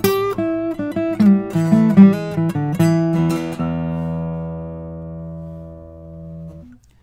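Martin 000X1AE acoustic guitar played up the neck, a quick run of bright plucked notes and chords ending on a long ringing sustained chord that fades out alone.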